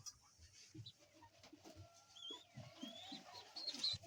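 A male fancy pigeon, a Black Shiraz kept among birds for sale, coos in low repeated pulses at close range, alongside some faint higher chirps from other birds.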